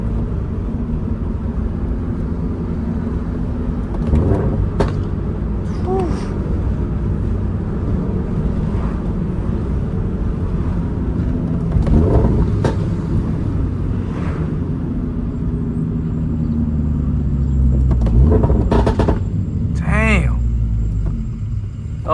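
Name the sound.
Toyota GR86 / Subaru BRZ exhaust pops and burbles while driving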